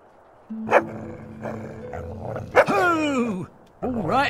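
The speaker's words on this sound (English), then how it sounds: "There's a nice, angry stray dog." Angry stray dog in the video game Fable II, barking and growling in sharp bursts over a game soundscape, with a voice speaking around the barks.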